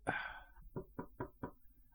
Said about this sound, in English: Just about to knock on the door here.